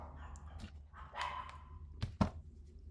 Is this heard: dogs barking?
yes